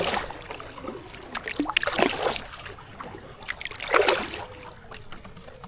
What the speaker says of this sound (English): So this one does have quite a bit of rattle, and you can feel that when you're paddling.